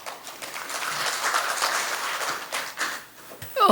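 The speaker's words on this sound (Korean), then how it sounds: "큰 박수 부탁드립니다" A room full of people clapping at a public ceremony, a steady wash of applause that swells and then fades out, with a brief noise at the very end.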